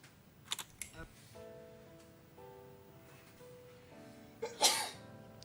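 A single sharp sneeze from a person, fairly close, preceded by a few faint keyboard-like clicks and a quiet tonal background drone.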